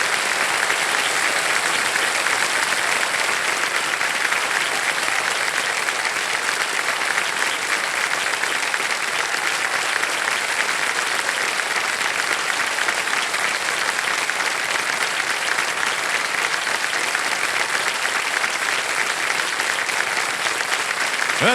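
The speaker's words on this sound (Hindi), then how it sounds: "ताली बजती रहे देवियों सज्जनों।" Sustained, dense audience applause fills a TV quiz show studio after a contestant wins five lakh rupees, steady and loud throughout with no talk over it.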